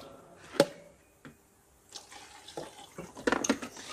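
Water is poured into pump fuel, trickling and splashing in short bursts with a few faint clinks, fairly close and with no talking.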